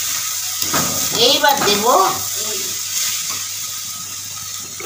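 Chopped long beans and vegetables frying in a pan as they are stirred after salt goes in, a continuous soft sizzle with a short burst of someone talking over it near the start.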